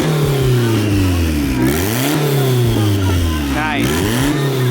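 Turbocharged Honda Civic on a dyno, engine revving loudly and close in repeated rising and falling sweeps, turbo spooling audible, with people speaking over it.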